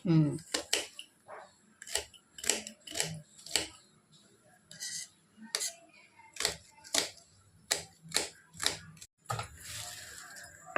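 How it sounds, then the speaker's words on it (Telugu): A knife chops small, tough onions for an old-style country chicken curry: a string of sharp, irregular knocks on a cutting board, close and fairly loud, with a voice faintly in the background. "ఇవి అసలు ఎంత కోసిన ముక్కలు అవ్వట్లేదు కోయటానికి కూడా కష్టంగా ఉంటుంది"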